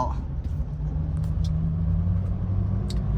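A lifted 2014 Mitsubishi Triton pickup with a 2.5 VG Turbo diesel pulls away and accelerates, a steady low rumble heard from inside the cab with a few faint clicks above it.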